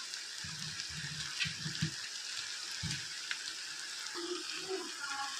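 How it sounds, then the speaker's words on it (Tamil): Green chillies and tomatoes sautéing in a pan for a quick vathakku chutney, a soft continuous sizzle with occasional low thumps of stirring, close and fairly quiet, without speech. "இந்த ஸ்டேஜில் நம்ம பச்சை மிளகா ஆட் பண்ணிக்கலாம்."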